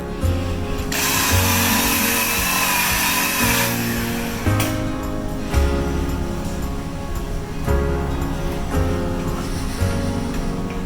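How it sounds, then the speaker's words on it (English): Polisher running on a car body panel during paintless dent repair, a steady motor whine with its pitch dipping and rising as pressure changes, loud and close with no talk. "I'm gonna hit it with the polisher"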